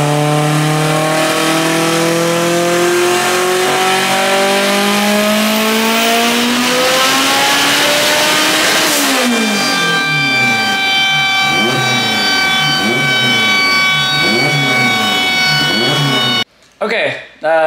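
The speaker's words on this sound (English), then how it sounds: "I'll go ahead and film that pull and just kind of show you what like a 700-ish horsepower Civic looks like on the dyno" A 700-horsepower Honda Civic making a full-boost dyno pull, a loud engine climbing steadily in pitch to redline, then a rapid wavering of harmonics with shifts and sputters before cutting off abruptly.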